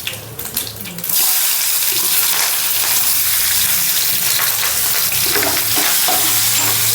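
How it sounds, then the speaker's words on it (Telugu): Onions and green chillies fry in hot oil with tempering spices, a loud, continuous close sizzle that surges after a brief stir at the start and holds steady. "వేగిన తర్వాత ఇందులోకి ఉల్లిపాయలు పచ్చిమిరపకాయలు వేసుకున్నాను."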